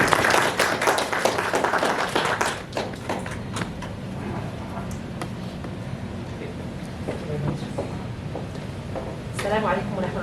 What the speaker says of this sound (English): You want to applause, please?